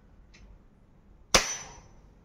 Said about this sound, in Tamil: And yes, we are going to fire now.